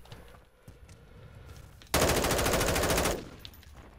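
Automatic gunfire in the video game Call of Duty Modern Warfare II, heard as a loud sustained burst of rapid shots lasting just over a second, preceded and followed by quieter game sounds.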